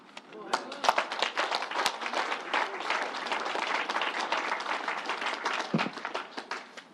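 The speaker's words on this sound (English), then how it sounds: "Let's give the Reverend another round of applause." A crowd at the New York State Fairgrounds breaks into steady, dense applause for a Reverend after a prayer at a governor's announcement, loud and sustained for several seconds with voices faintly under the clapping.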